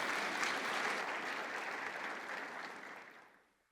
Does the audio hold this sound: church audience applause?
yes